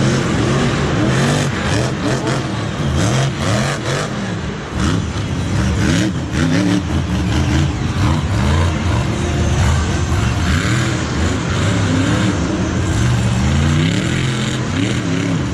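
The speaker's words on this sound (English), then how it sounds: "You can still hear his throttle rhythm even through the collectors, but the engine's popping quite a lot." Monster truck engine at a muddy Monster Jam stadium show revs hard in rhythmic throttle bursts with frequent crackling pops, loud and continuous throughout with no talk.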